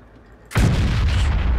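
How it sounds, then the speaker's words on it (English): A tank gun fires in the video game World of Tanks, a single sudden loud boom after a quiet start, followed by a sustained rumbling roar. "Randomly shoot at him there, and he managed to hit me."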